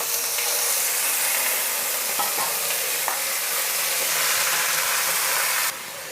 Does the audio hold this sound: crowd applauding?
no